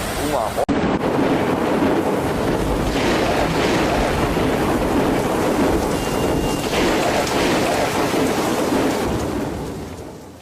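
Heavy rain pours down steadily across flooded city streets in Fushun, Liaoning Province, with a dense, loud roar of water and distant thunder, while a voice talks over it.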